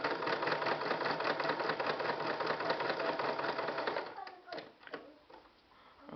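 Sewing machine stitching paper booklet pages: a rapid, even mechanical chatter runs for about four seconds, then stops, followed by a few lighter taps and handling clicks.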